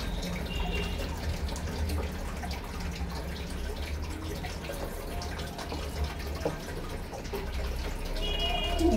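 Pangasius fish is mixed by hand with chili powder, salt and water, giving soft, wet squelching and light splashing. Low, continuous kitchen background runs underneath.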